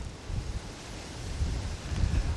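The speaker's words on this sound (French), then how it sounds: "on dirait le vent il souffle fort là" Strong wind buffets a microphone outdoors during a tropical cyclone on Réunion, producing a low, rumbling roar that surges and eases in gusts, with no voices.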